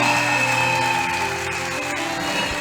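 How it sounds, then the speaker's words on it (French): A church congregation claps along to music, with sustained tones and rhythmic clapping filling the room throughout. "Clap for the Lord."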